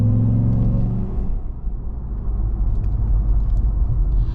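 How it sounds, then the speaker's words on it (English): A supercharged RAM 1500 TRX pickup is being driven, its engine giving a loud, steady low drone with a faint whine and a slight dip in the middle, with no talk. "just hearing that supercharged whine"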